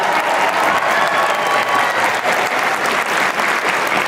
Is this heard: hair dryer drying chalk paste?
no